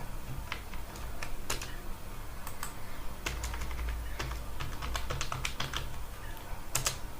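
Close computer keyboard typing while writing C++ code, irregular bursts of crisp key clicks and taps with short pauses, quiet and without talk.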